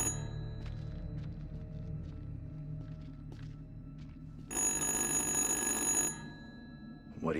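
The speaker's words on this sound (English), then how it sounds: "The phone's ringing." A telephone rings in the horror video game Little Hope, a loud burst of bright ringing lasting under two seconds that stands out over a low, dark ambient drone.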